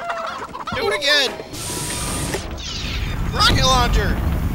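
Chickens clucking and squawking in quick bursts, mixed with mechanical clanking and a shouting voice, loud and busy throughout.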